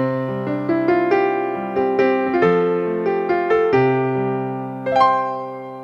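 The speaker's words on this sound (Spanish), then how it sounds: "un piano" A piano plays a bright melodic phrase in a children's music lesson, struck notes ringing and decaying in an even rhythm, close and alone.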